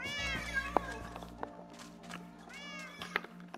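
Cats meow in the Minecraft video game, several short rising-and-falling meows close by, with a couple of sharp clicks and a low rumble in the background.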